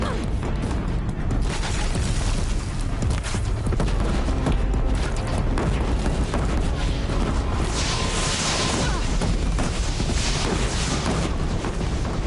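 In the Horizon Zero Dawn game, a Deathbringer machine fires rockets, giving a dense, continuous barrage of booms and crashing impacts that stays loud and close throughout.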